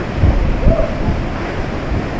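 Hurricane Ian's eyewall winds roar ashore, a loud, constant rumble of wind and storm surf battering the microphone with deep gusts and no break.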